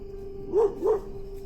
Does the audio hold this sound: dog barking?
yes